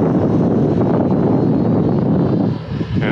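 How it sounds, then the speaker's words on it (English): Loud, steady wind roars outdoors around a small Eachine Zero micro warbird RC plane, a constant broadband rush buffeting the microphone that eases slightly near the end. "And now the wind's starting to pick up."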